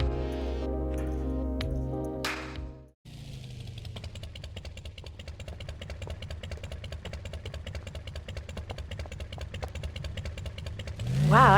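Motorcycle engine in GTA Vice City runs at a steady mid-pitched idle with a fast, even pulse that continues for most of the stretch after a brief gap, a louder burst coming at the end.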